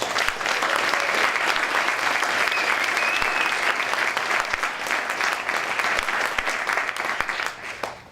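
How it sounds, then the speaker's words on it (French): An audience at a Strasbourg opening ceremony and pitch event applauds steadily, a dense, even wash of clapping from many hands that holds for several seconds before tapering off. "on pourrait l'applaudir encore un peu"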